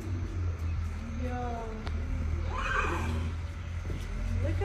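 A horse at the stables gives a clear whinny partway through over a low background hum, while people talk nearby.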